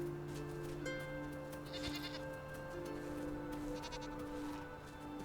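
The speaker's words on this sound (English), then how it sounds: "Yep, and see there's a baby goat." A baby goat bleats in a video game, thin wavering cries rising over a steady hum of game background sound, alone and fairly close.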